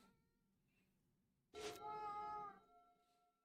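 A cat lets out a single drawn-out meow, clear and fairly close, over a quiet background.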